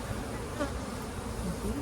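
Bees emerging from a brood frame in a hive, a soft continuous close buzzing hum with no talk.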